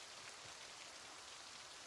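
Steady, even rain falls in Project Zomboid, a soft continuous hiss of drops on the ground that stays at the same level throughout, with no voices.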